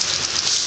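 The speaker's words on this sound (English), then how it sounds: "Still raining. Gonna be raining for a long time." Steady, dense hiss of heavy rain falling during Hurricane Ike in Oklahoma, close and loud with no break over the brief moment.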